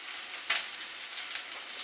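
Onions sizzle steadily in a hot pan with salt and turmeric, a soft, even hiss with a few brief louder crackles as they are stirred, heard alone.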